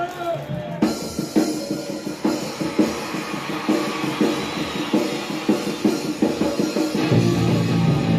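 A rock song spinning on a South Korean bootleg vinyl LP: dense, continuous rock music with driving drums and guitar, loud and steady throughout.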